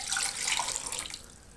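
Water pours briefly into a container, a close, bright splashing trickle that lasts about a second before tapering off into quiet.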